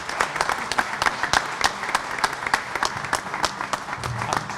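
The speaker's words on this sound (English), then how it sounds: "So a round of applause." An audience at a Long Island MacArthur Airport event celebrating new Breeze Airways nonstop service gives a round of applause, with steady clapping and distinct sharp individual claps standing out across the crowd.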